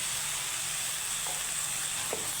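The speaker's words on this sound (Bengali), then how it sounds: "সবজিটা আমার এখানে ভাজা হয়ে গেছে আর এই পর্যায়ে আমি দিয়ে দিব এই বেটে রাখা আমার ওই পাতা পেস্ট" Vegetables fry in a pan with ground leaf paste, giving a steady, quiet sizzling hiss with a couple of faint stirring scrapes and no voices.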